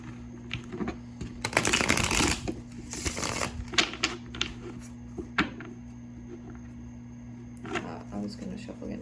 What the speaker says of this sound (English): I'm going to shuffle and read for